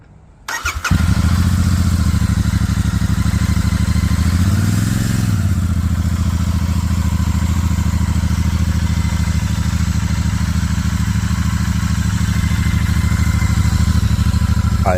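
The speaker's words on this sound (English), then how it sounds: "Let me fire up the engine." A Royal Enfield Super Meteor 650 motorcycle starts with a quick crank and catches at once, then settles into a steady, loud, close idle with an even, throbbing engine beat.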